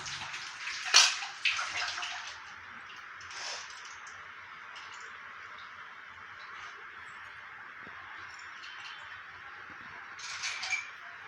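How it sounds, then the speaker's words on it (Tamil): Vegetable biryani rice and water bubbling at a boil in a pot give a steady, low watery burble with a few louder splashy gurgles near the start and end, heard close and alone. "இப்போ கொதி வந்துருச்சு"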